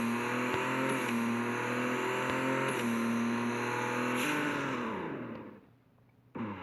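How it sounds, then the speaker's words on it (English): Koenigsegg One:1 with a broken engine in a racing video game, its loud steady engine note droning and rising under acceleration with gear-shift dips, then fading away before a brief final burst. "I just did a run on a broken engine"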